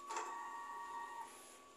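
A DTF printer runs a print head cleaning cycle, a faint steady mechanical whir with a thin tonal hum that holds, then fades slightly, heard alone with no talking.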